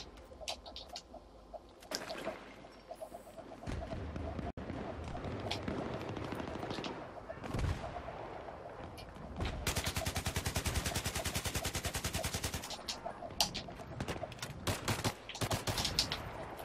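Dense bursts of gunfire from the video game Battlefield 3, including a rapid automatic stretch in the middle, crackling loudly and continuously with scattered single shots and no talk over it.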